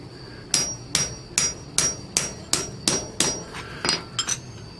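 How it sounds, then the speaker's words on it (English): Old cracked clutch bushing being tapped out with an aluminum piece on a solid surface: about ten sharp metallic hammer taps at a steady, roughly even rhythm, close and clear, with the last few coming quicker. "So I'll put this on a solid surface and I'll tap away, see if we can pop it out."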